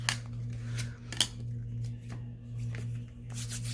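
Scissors snip through paper while pockets are made for a nature journal, a few short crisp cuts standing out near and clear over a steady low hum, with no talking.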